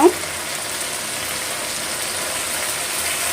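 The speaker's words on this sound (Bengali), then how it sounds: "আদা আর হলুদটা দিয়ে ভালো করে আবারও মশলাটা কষিয়ে নিচ্ছি" A ginger and turmeric spice paste fries in a pan in a village-style kitchen, producing a steady close sizzle after a brief clink at the start.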